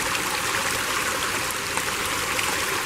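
Creek water rushes steadily as hands are dipped into it near a canyon edge, a dense, even, close-up wash of flowing water with no pauses.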